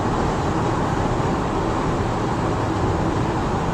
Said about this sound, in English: The sound is of wind and bad roads.